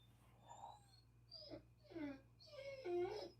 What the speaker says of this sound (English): My dog sounds like a donkey when he gets upset.